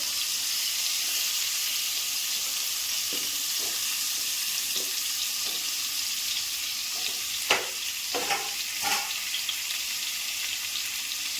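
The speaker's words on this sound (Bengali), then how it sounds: "এখন ওই মাছের ভাজা তেলেই আমি আলুগুলো ভেজে নিচ্ছি।" Potatoes frying in oil left over from frying koi fish, a continuous close sizzle with stirring scrapes and a few sharper clatters toward the end, no voices.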